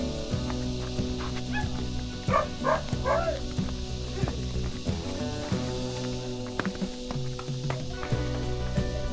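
Dogs in a mountain village near rice terraces in Nueva Vizcaya give a few short barks and yips, clustered mostly in one burst, over a constant background hiss.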